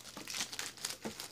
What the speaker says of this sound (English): Let's open her up and see what kind of cards we get in this tin.